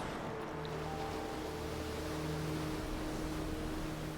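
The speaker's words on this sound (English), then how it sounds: "That's a lot of water" Steady rushing of flood water in Genshin Impact's Fontaine, a constant broad wash with low hum-like tones beneath, moderately distant and unbroken, no speech.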